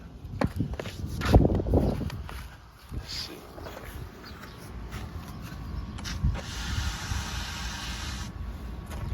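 Water sprays in a steady hiss across the wheels of a Cadillac XTS during a rinse, starting partway through after some shuffling and handling noises, with faint voices nearby.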